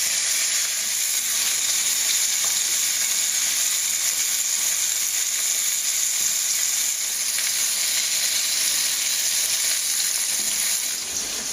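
Breaded tilapia fillets pan-fry in oil, a loud continuous hissing sizzle that holds steady close up for the whole stretch with no voices.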